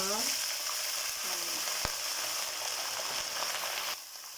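Onions frying in a pan until brown for spicy potatoes, a loud steady sizzle with a sharp knock of a utensil partway through, fading slightly at the end.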